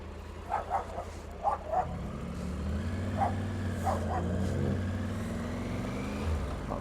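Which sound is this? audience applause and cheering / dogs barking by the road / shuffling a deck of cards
dogs barking by the road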